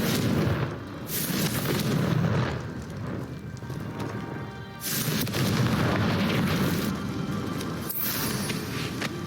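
Heavy booming blasts from the Confringo fire spell in Hogwarts Legacy, two or three loud explosive bursts with rumbling fire trailing between them, no talking.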